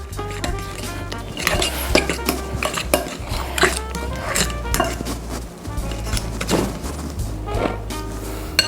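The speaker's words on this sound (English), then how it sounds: "now I'm going to slowly beat in the flour mixture" Flour mixture being beaten into batter in a bowl by hand without a whisk, steady clinking and scraping of a utensil against the bowl with irregular knocks throughout.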